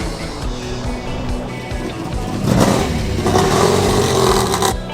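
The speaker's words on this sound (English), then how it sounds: "I'm fairly confident in saying that big lusty straight six engine." An Opel GT with a straight-six engine revs at a car gathering at Bicester, its engine note swelling and rising loudly partway through over outdoor background noise.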